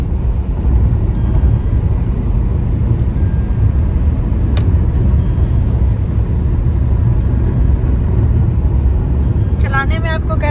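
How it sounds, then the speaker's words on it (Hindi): A car cruises on the Samruddhi expressway between Pune and Nagpur, giving a steady, loud interior road and engine rumble with constant tyre noise throughout and a brief voice near the end. "गाड़ी तो चल रही है क्योंकि रोड ऐसी है कि आपको कुछ करना ही नहीं है।"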